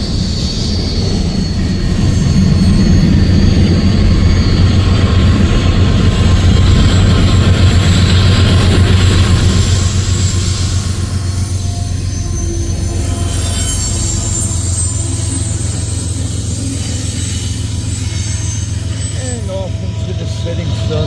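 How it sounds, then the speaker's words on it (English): A westbound empty coal train with rear DPU locomotives rolls past at Pacific Junction, Iowa, with a loud continuous rumble of wagons, steady low engine drone and high wheel squeal running throughout at close range. "Setting sun, our westbound empty coal drag goes."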